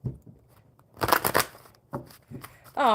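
Oracle cards from an Enchanted Map deck being shuffled by hand, giving a couple of short papery riffling bursts with quiet gaps, close up, before a voice begins at the end.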